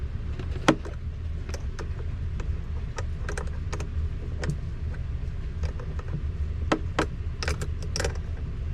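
A wrench clicks and ratchets in scattered sharp metallic ticks while loosening 10mm nuts on the battery of a 2018 Mercedes-Benz Sprinter 3500 RV, set against a steady low hum, close and fairly quiet, no voices.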